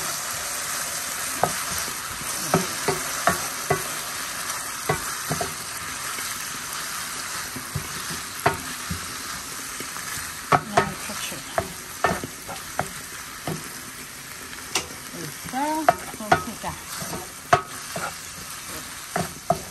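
Red chile sauce poured over fried tortillas for ranch-style chilaquiles sizzles loudly in a pan, with repeated scraping stirs and sharp crackles throughout, no talking.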